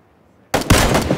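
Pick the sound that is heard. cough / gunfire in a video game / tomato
gunfire in a video game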